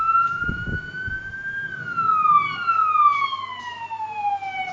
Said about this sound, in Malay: Bunyi siren dan enjin yang kuat dipercayai dapat menakutkan buaya sekaligus